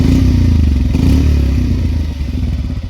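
A 2026 Bajaj Pulsar 125 motorcycle engine runs loud and close, its throttle blipped to rev up briefly before settling back into a rough, thumping idle.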